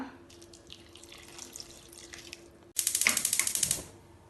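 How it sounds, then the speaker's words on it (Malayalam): Water poured into an uruli pot of cut ripe plantains on the stove: light kitchen clatter first, then a loud, close splashing pour lasting about a second before it tapers away. "ഇതിലേക്ക് കുറച്ച് വെള്ളം ഒഴിച്ച് തീ കത്തിച്ച് വേവിച്ചെടുക്കാം."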